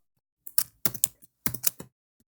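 Fingers typing on a computer keyboard, a few quick bursts of crisp close clicks separated by short pauses.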